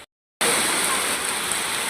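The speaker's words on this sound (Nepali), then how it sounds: "अहिले चाहिँ पुरा झाट पानी आएको छ" Heavy rain pours down in a dense, loud, even hiss that starts abruptly after a brief silence and keeps falling steadily.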